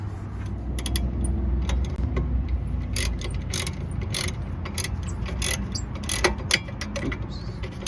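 Ratchet cranking a bolt on the rear brake of a BMW E46, rapid close clicking strokes in repeated bursts over a steady low garage hum.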